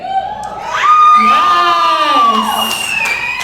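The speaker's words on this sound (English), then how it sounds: "Please give him a round of applause." Comedy show crowd at a Santa Fe brewery greeting a performer with loud whoops and rising cheers, sustained over a bed of crowd noise.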